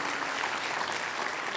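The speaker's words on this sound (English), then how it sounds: "Let's give her a round of applause." An audience claps at a school business and education partnership awards ceremony, producing steady, dense applause with no voices over it.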